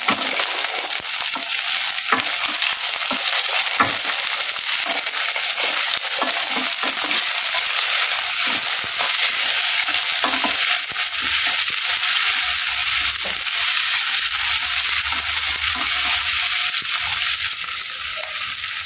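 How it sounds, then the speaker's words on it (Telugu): Potatoes and cluster beans fry in a pan for a curry, a loud, dense sizzle with constant crackling and stirring scrapes running steadily throughout. "ఇందులో ఆలుగడ్డ వేస్తుందండి. ఇంకా నేను గోకరకాయ కూడా వేస్తున్నాను."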